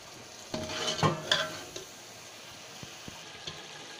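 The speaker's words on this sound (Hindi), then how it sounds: "इसको अब हम अच्छा सा भूनेंगे।" Masala for paya curry sautéed in a pot, with a few loud scraping stirs of a spoon against metal early on, then softer intermittent clinks over a faint sizzle, and no voices.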